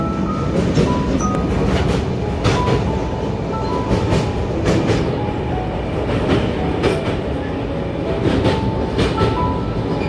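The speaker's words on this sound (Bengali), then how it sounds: "ট্রেন দক্ষিণেশ্বর ঢুকছে।" A passenger train pulls into Dakshineswar station at night, a steady loud rumble of wheels on rails with repeated clickety-clack joints and occasional metallic squeals, continuous and close.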